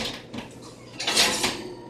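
A clean metal frying pan is handled in a home kitchen, giving a few close light clanks and scrapes of cookware, with a louder knock near the middle and no speech.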